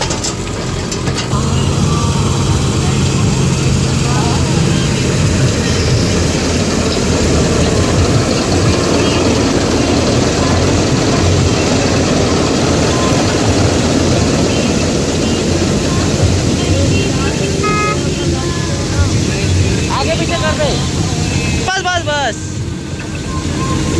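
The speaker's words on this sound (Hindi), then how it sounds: "चलिए दोस्तों दाना खाली करने के लिए ले जा रहे हैं ट्रैक्टर को।" A loud, steady tractor engine drone runs throughout on a farm during wheat harvest, close and continuous like a heavy vehicle under way, with occasional voices faintly underneath.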